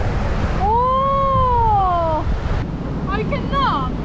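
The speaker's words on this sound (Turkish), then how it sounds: "3 metre dalga geliyor ya." Ocean surf at Mazatlan, Sinaloa, with waves rolling in as a loud, continuous wash under gusty wind noise, while gulls or other seabirds call over it in drawn-out cries.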